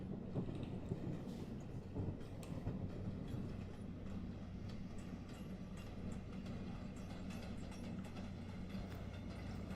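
A Bronx-bound 1 subway train in a Minecraft build of the New York City subway runs with a continuous rolling rumble and scattered rail clicks, steady and moderately loud.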